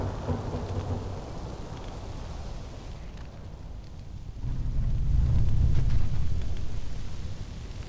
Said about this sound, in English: We're taking damage! They're shooting at us.